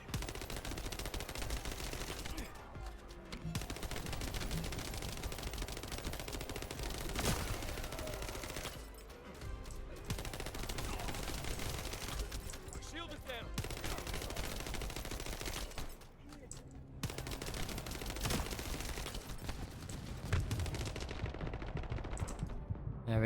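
Sustained bursts of rapid automatic gunfire from the Thunder Cage weapon while mobbing enemies in a video game, dense rattling volleys broken by short pauses, loud and continuous over game effects.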